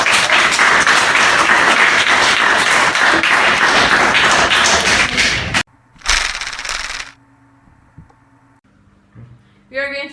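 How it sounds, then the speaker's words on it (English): A studio audience on a talk show gives a loud round of applause that runs steadily for over five seconds, then cuts off, followed by a short burst of clapping and quieter scattered sounds. "Let's have a round of applause."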